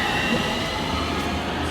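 A train pulling out of a station in Nuremberg, heard as a steady, close rumble of rolling rail cars with a faint wheel hiss, continuous across the short stretch with no talking.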